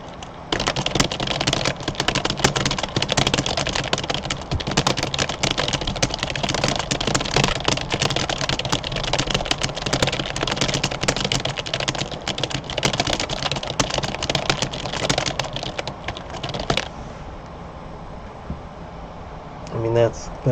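Fast, continuous clatter of a computer keyboard during a typing race, rapid keystrokes close up for most of the stretch before easing off to a few scattered taps, with speech heard at times.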